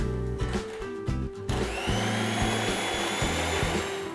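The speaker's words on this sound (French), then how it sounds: "à l'aide d'un batteur électrique, battre pendant 2 minutes les 2 jaunes, les 2 œufs entiers et le sucre" Electric hand mixer whirring loudly in a bowl of egg yolks, whole eggs and sugar, its steady drone broken by brief bumps and pauses near the start.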